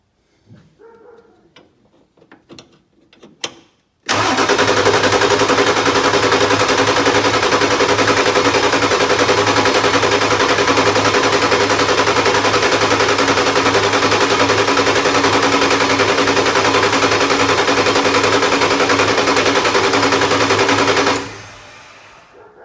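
A 1996 Ford F350 diesel that has sat unstarted for years catches after a few faint knocks and runs with a loud, steady, close rattling clatter for about seventeen seconds before cutting off abruptly.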